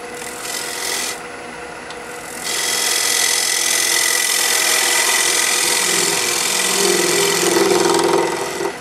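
Skew chisel cutting a poplar bowl spinning on a wood lathe: a loud, continuous hissing rasp that starts briefly, pauses, then runs steadily close to the microphone for several seconds.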